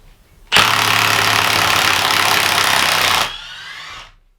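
A Milwaukee M18 Fuel 1/2-inch mid-torque impact wrench (2962) on setting 2 backs out a 3-inch bolt in one loud, close, continuous hammering burst of about three seconds, then winds down to silence.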